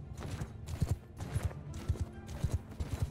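Horse hooves gallop in a quick, steady rhythm during a cavalry ride in the Mount & Blade II: Bannerlord video game, with the beats clear and close and no other sound over them.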